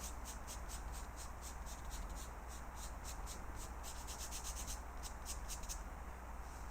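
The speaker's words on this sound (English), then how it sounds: "I'm going to begin just by blending this to make it kind of soft" Soft pastel chalk being blended on paper, a faint, dry, rhythmic rubbing with quick repeated strokes, close and quiet with no talking.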